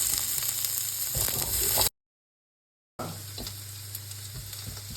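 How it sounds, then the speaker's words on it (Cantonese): Vegetables sizzle steadily as they pan-fry in a hot wok for Japanese agedashi tofu, a constant close crackle with light stirring, briefly cut to silence midway before resuming. "燒完隻鑊，我哋將啲菜煎一煎佢啦"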